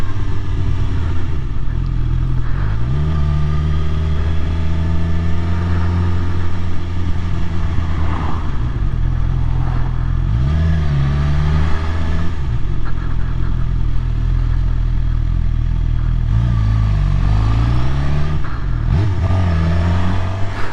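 A Suzuki GSX-R750 sportbike rides on the road, its engine droning loud and continuous with repeated rising revs and dips as it shifts through the gears.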